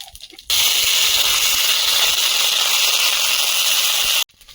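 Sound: dry chillies and panch phoron sizzling in hot oil

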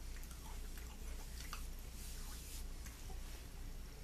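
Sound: chewing mini cereal pieces

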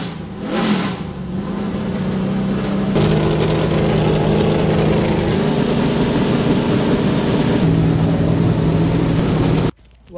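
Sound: NASCAR race car engines rumbling

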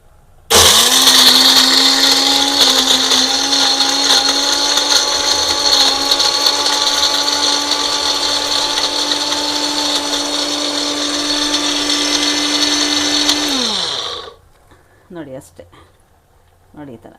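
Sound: mixer grinder coarsely grinding ingredients into powder

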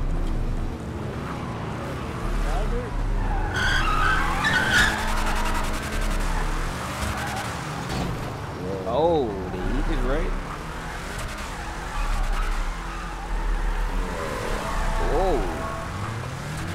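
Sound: car sliding and skidding in a video game

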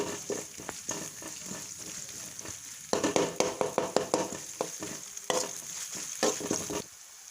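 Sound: ginger garlic paste frying in pan for pav bhaji

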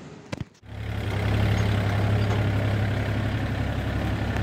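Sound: Kubota L3218 tractor engine with KRX164 rotary

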